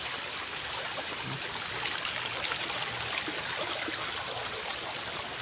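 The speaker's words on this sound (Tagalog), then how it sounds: "malakas ang agos ng tubig" Strong, steady rush of flowing stream water, broadband and continuous throughout, with no voices.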